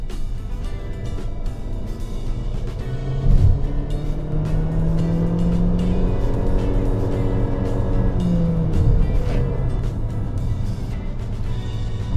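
A Chery Tiggo 4's engine drones steadily from inside the moving SUV, its pitch rising and falling as the revs climb and drop through gear changes, with road noise underneath.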